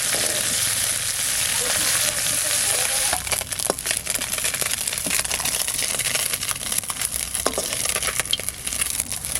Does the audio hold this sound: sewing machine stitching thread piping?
no